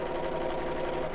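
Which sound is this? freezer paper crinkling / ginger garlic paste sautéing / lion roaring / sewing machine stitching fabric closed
sewing machine stitching fabric closed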